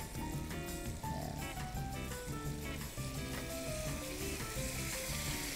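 Pork stock hits a hot pan for an adobo-style asado and sizzles loudly and steadily close by, with a busy bubbling hiss throughout and a few faint stirring knocks.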